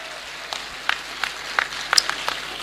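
Sparse, modest clapping from an audience at a Hindi poetry recital, individual claps standing out at irregular intervals rather than building to full applause.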